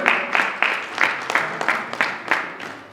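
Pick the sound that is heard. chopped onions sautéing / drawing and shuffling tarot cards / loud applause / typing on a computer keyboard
loud applause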